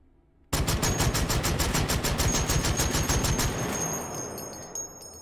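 H&K CAWS automatic shotgun fitted with a compensator in the H3VR VR game, a rapid full-auto burst of about twenty loud evenly spaced shots, then a fading echo and a couple of faint clicks.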